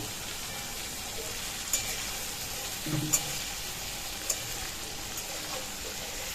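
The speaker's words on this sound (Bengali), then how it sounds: "নুনটা দেওয়ার ফলে তাড়াতাড়ি আনাজগুলো ভাজা হয়ে যাবে" Sweet potato, yardlong beans and potatoes fry in oil with a spoonful of salt, giving a soft continuous sizzle with a few brief clinks and stirring sounds scattered through it.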